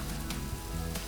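Eggplant stir-fried with cooked mince and basil in a pan, with a short, dense, continuous sizzle up close.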